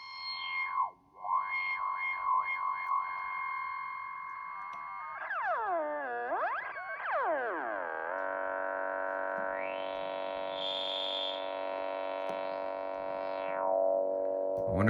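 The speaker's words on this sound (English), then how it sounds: "And it's all coming out of this tiny little speaker." Small electronic sound modules play through a tiny speaker, producing warbling, sweeping synthetic tones, then swooping pitch glides and a sustained buzzy drone with a high whine, all fairly loud and continuous with no voices.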